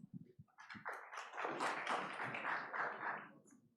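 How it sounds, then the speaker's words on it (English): Applause from an audience at a Saudi Huawei partner enablement summit, a dense, sustained wash of clapping that swells in and holds steady for about three seconds before tapering off, with a few isolated taps at the start. "Let's give a warm round of applause"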